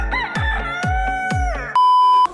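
A rooster crowing sound effect: three loud, close crows in quick succession, each with a strained rising call, followed by a short steady electronic beep.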